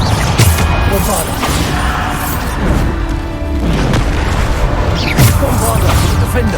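Bombarda spell explosions in Hogwarts Legacy combat, with heavy booming blasts and crashing impacts that repeat every second or two over a constant loud rumble, alongside other battle sounds.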